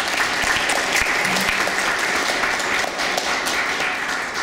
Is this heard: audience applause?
yes